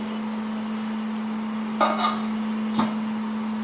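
A metal pot lid clanks twice as it is lifted off a pot of boiling chole, over a steady electrical hum in a quiet room.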